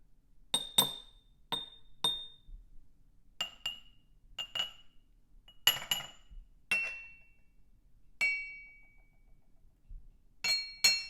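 Tea glasses are struck against each other for a puer tea comparison, giving about a dozen sharp metallic clinks with ringing tails. They fall in pairs and singles, spaced by quiet gaps, close and clear.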